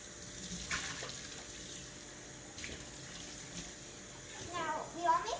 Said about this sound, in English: you just put it into the sink, and then you're going to rinse out the bowl